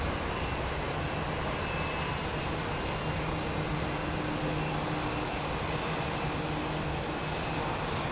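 A jet airliner climbs out after departure from runway 27R at London Heathrow, a loud, steady broadband engine roar that holds level throughout with no voices.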